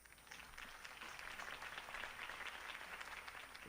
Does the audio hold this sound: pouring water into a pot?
no